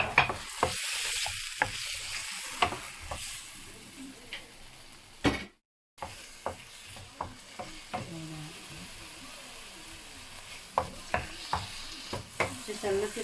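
Tomato frying in a pan alongside sea bass, with spinach also in the dish. A steady sizzle runs throughout, broken by sharp clicks and scrapes of stirring and a brief silent gap partway through.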